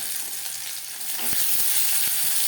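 Cumin and dried red chilli sizzle steadily in hot oil with jackfruit seeds for a vegetarian ol stalk chachchari, the frying growing louder and crackling after a moment, with sharp spoon stirs breaking through.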